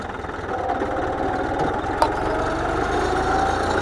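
A 45 hp tractor engine runs steadily at a low idle-like throb, close and continuous, with a brief sharp click near the middle and no talk.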